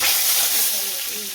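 Potatoes sauté in a pan with coriander and cumin in a village kitchen, a steady close sizzle of frying with stirring that fades slightly toward the end.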